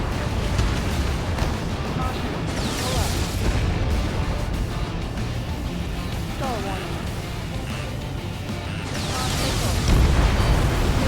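Continuous heavy explosions and rumbling booms from a pipeline being destroyed in the air-combat game Ace Combat 7, a loud dense roar that swells near the end, with radio chatter over it.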